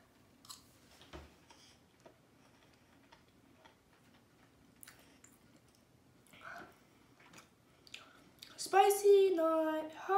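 Someone chews squirrel meat with rice in soft, wet bites close by, with quiet clicks and squishes. A voice breaks in briefly near the end.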